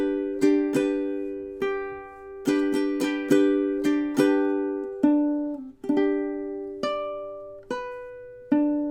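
Ukulele plays the opening four bars of a song, a steady run of bright plucked and strummed notes that ring and decay, close and solo with no voices.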